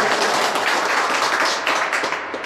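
Dense, steady crowd applause at a live public religious talk fills the whole stretch, loud and broadband, easing slightly toward the end with no talk over it.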